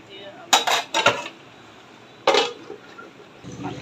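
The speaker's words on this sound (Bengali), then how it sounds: "মাংসটা আমি নাড়াচাড়া দিয়ে দিলাম, দিয়ে ঢাকনা দিয়ে ঢেকে দিব।" A metal spoon clatters against a pot of beef head meat cooked in beef fat, a few sharp scraping knocks, then a lid clanks down, close with a quiet background.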